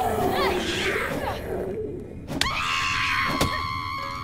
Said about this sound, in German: Warum schreit die Alte immer so?